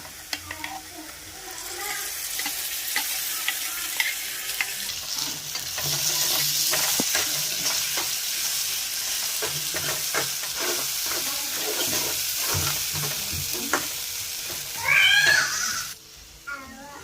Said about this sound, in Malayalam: ഇതിനി നല്ല ലോ ഫ്ലെയിമിൽ ഇട്ടിട്ട് എണ്ണ സൈഡിൽ നിന്നൊക്കെ നന്നായിട്ട് തെളിഞ്ഞു വരുന്ന വരെ നന്നായിട്ട് വഴറ്റിയെടുക്കണം